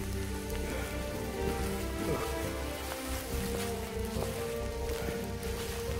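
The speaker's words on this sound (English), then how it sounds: "it's hailing," Dense, steady pattering of small hail pellets striking surfaces all around on the Inca Trail to Machu Picchu, a continuous close clatter with no voices.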